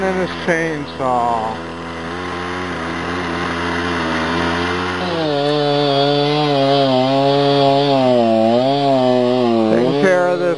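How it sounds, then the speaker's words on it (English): A chainsaw cutting through a root ball of a river strainer on the Great Miami River, worked from a boat. The engine is close and loud, a sustained buzzing whine that wavers and rises in pitch as the blade bites in. "chainsaw."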